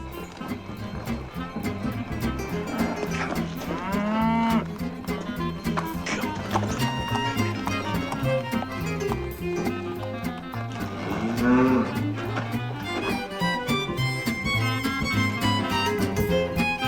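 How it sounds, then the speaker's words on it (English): Cattle sounds, with a cow lowing a couple of times, carry through a busy mix of music and other farm-animal noise across the whole stretch. "I am not stealing a cow. This is my cow."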